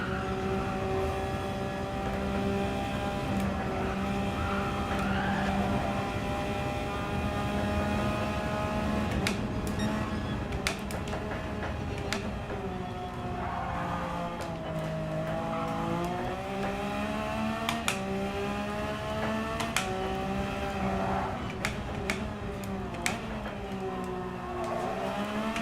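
Race car engine in Gran Turismo 7 held at full throttle, a loud sustained high-revving roar with rising and falling pitch through gear changes and brief clicks, continuous throughout with no talking.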